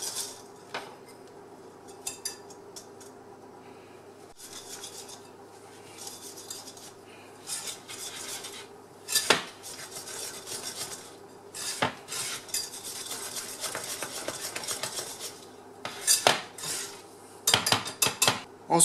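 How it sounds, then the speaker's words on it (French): A spoon or whisk clinks and scrapes against a bowl while almond powder is stirred into beaten eggs and sugar for a galette des rois, in irregular bursts of tapping and scraping, close and fairly quiet. "je vais incorporer la poudre d'amande"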